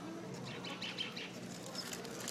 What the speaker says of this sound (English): I'm recording all these birds.